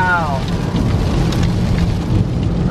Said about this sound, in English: Look, it's not raining, now it's raining.